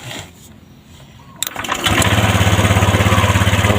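A motorcycle with a repaired ignition, a fixed broken red-yellow wire and a cracked hall sensor, cranks briefly and then catches, settling into a loud, close, rapid pulsing idle that runs steadily to the end.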